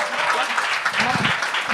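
A comedy-club audience gives a steady, loud wash of applause to welcome the first comedian onstage, continuous and dense without pauses.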